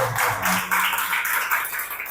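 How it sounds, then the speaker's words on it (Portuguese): A church congregation claps together in steady, rhythmic applause, a dense and fairly loud wash of hand claps filling the room with no talking over it. "Aplauda o Senhor."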